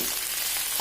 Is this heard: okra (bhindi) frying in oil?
yes